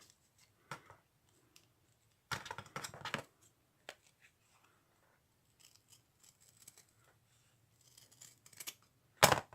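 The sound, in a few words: scissors cutting paper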